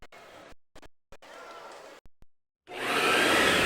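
A vacuum cleaner sound effect in a radio advert for a vacuum store: short bursts of motor whoosh cut on and off, then a loud sustained roar that swells and keeps running.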